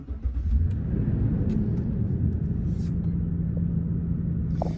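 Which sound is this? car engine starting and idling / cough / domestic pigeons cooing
car engine starting and idling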